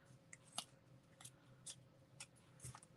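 Scissors cutting tape or paper in half, a series of faint crisp snips spaced unevenly over a few seconds in a quiet room.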